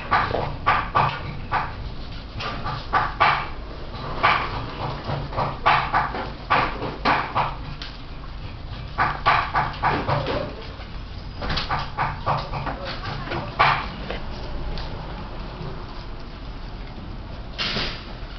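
Puppies yap in short, repeated sharp barks, mixed with whimpers and scuffling, close by and indoors for most of the stretch, then thinning out toward the end.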